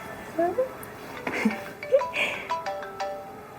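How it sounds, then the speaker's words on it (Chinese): A phone ringtone plays a series of short, bright chiming notes in a quick melodic pattern, fairly quiet, with faint background voices. "电话在哪儿响啊？"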